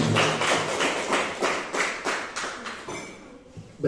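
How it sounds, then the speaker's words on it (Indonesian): Classroom applause for a student group, a few seconds of rhythmic clapping in steady beats from a small crowd that fades out near the end. "Kita berikan tepuk tangan dulu untuk kelompok 1."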